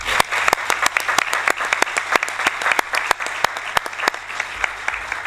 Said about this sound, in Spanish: queremos agradecerte tu presencia con este aplauso